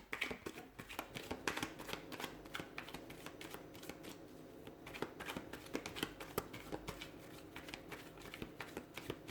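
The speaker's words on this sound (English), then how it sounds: "Let's give the cards a shuffle" Tarot cards being shuffled repeatedly, a steady stream of crisp riffling and flicking close by, with no talking.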